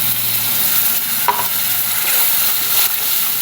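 Masala with ground peanut paste and bedgi chilli stir-frying in oil, a steady loud hissing sizzle with a couple of brief scraping stirs, close and continuous throughout.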